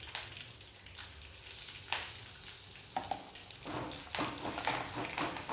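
Curry leaves and dried red chillies fry in hot oil for a Telugu pudina rice, a steady close sizzle with sharper crackling bursts as the leaves hit the pan.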